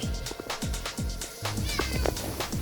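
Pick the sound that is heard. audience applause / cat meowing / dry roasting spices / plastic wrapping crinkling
cat meowing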